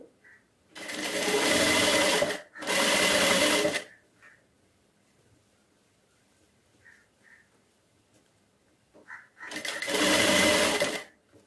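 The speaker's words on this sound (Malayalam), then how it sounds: "എവിടെയാണ് ആ പോയിന്റ് അവിടേക്ക് നമുക്ക് സ്റ്റിച്ച് ചെയ്ത് നിർത്താം" A sewing machine stitches an invisible zip in three loud, steady bursts, each running a couple of seconds, with quiet pauses and small clicks between them.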